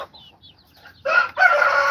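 Chickens related to an Australorp crowing and clucking on a farm, with faint chirpy calls at first, then two loud, close bursts of harsh crowing in the second half.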